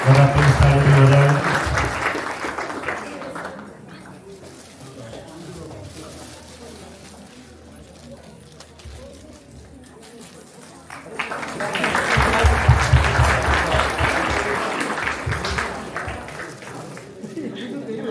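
An audience at a Ganesh arti community event in Leicester claps in two strong bursts of applause with a quieter stretch of scattered clapping and chatter between them.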